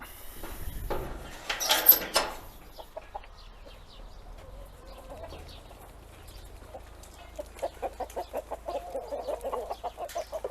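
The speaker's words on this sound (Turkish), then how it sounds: "Önce tavuklarımızı salalım." Chickens on a free-range farm clucking softly at moderate distance, a rapid run of short clucks near the end, with a brief rustle and knock early on.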